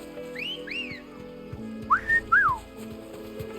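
A player wolf-whistles to call a chocobo in Final Fantasy XVI: two quick rising-falling two-note whistles, then a louder, sharper pair a moment later over a quiet game background.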